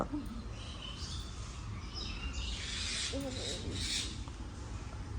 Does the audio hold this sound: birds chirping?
yes